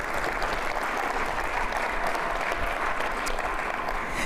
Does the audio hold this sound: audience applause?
yes